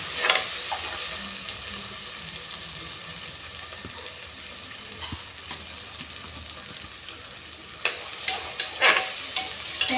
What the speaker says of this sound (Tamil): இஞ்சி பூண்டு போட்டனால அடிப்பிடிக்கிற மாதிரியே இருக்குங்களா, அதனால் நல்லா கிண்டி விடணும்.